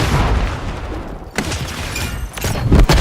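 A frag grenade goes off in a shooter game as a loud, close boom with rumbling gunfire and blasts around it, bursts rising toward the end.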